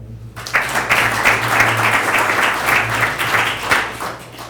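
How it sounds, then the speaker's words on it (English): Sustained applause from an audience at an Ethereum meetup, a dense wash of many hands clapping at steady volume for several seconds, with a faint low hum underneath. "let's give him a round of applause"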